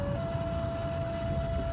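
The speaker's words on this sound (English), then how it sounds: "Tornado sirens sounding in Joplin." Tornado warning sirens sound across Joplin during a storm. A single steady wailing tone holds, distant and fairly faint, over a low rumbling background.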